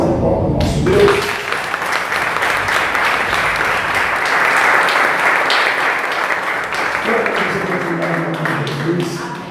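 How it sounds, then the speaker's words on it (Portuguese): A church congregation at a Brazilian healing and deliverance service breaks into loud, sustained applause for God that fills the room, with a Portuguese-speaking voice at the start and end. "Uma salva de palmas ao nosso Deus."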